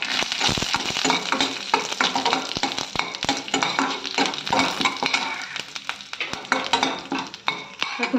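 Chana dal, urad dal, mustard seeds and dried red chillies frying in hot oil as a tempering for a cabbage mustard curry, giving a steady close sizzle broken by sharp stirring clinks of a spoon against the pan.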